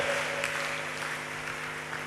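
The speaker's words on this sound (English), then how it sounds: "Can we clap for Jesus?" A congregation at a Hope for the Needy healing crusade claps for Jesus, a steady, dense wash of applause heard from a distance, moderately faint, with a faint steady hum underneath.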